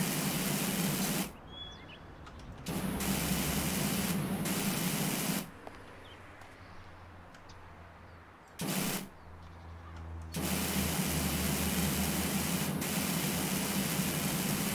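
Pressure washer spraying in the Power Wash Simulator video game, a steady broad hiss that cuts in and out in several bursts, with quieter gaps between sprays and no talk.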